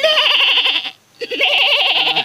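A man imitates a baby goat, giving two long wavering bleats with a short gap between them, close and loud, with no other sound.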